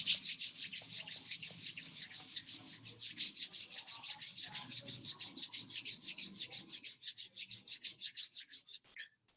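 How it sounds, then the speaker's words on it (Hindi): Two hands rubbing together in quick, even strokes, a soft, faint swishing friction that repeats steadily throughout. "फिर से दोनों हाथ को रब कर लीजिए।"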